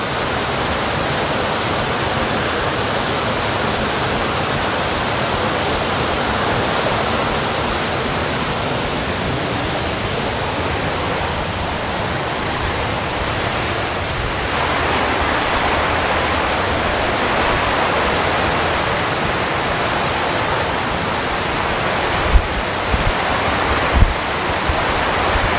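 A forest stream on a trek at Chinnar rushes steadily, a loud, even wash of flowing water close by. A couple of faint knocks sound near the end, with no talk.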